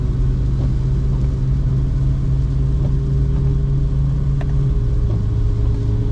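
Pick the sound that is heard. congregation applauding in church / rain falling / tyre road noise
tyre road noise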